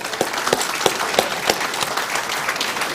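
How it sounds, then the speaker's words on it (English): Audience applause at a sickle cell disorder self-care event: a steady patter of many hands clapping through the whole stretch, with a few sharper louder claps standing out, and no voices. "let's give her another round of applause"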